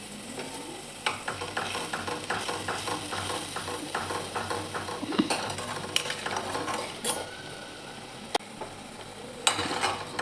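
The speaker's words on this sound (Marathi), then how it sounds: "पूर्ण तेल सुटेपर्यंत मसाला व्यवस्थित भाजून घ्यायचा आहे" Masala of chilli powder, turmeric and coriander powder roasts in oil in a pan for a spicy drumstick curry, giving a steady low sizzle with scattered scrapes and stirring clinks throughout, no talking.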